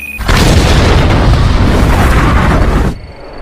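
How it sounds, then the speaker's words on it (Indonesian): A single loud, deep boom from an action film blast rolls out for about three seconds and then cuts off abruptly, heard alone with no voices. "Peter pun tewas meledak"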